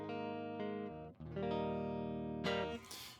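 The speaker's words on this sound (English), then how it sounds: "this is just going direct into the interface and then direct into Logic." Jazzmaster-style electric guitar played straight into an audio interface with no amp plugin, giving a thin, clean direct tone; sustained chords ring out, a brief dip near the middle, then a brighter strummed attack toward the end.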